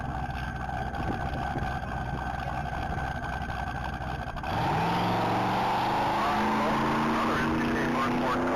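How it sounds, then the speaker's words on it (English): A 2018 Chevrolet Camaro 2LT accelerating hard at a standing-mile top-speed event, its engine winding up in rising pitch after a few seconds of background noise, loud and sustained as it pulls away, with a voice talking over it. "This is going to be a 2018 Camaro 2LT."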